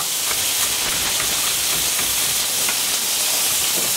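Beef sizzles and hisses in a hot pan for a beef and ale stew, a steady loud frying crackle without pause.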